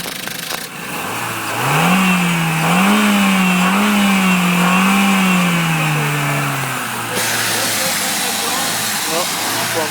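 A 2003 Vauxhall Corsa 1.2 16v with the Z12XE engine is revved from idle, climbing to a sustained, slightly wavering high-rev hum for several seconds, then dropping back to a steady idle. The engine is loud and close.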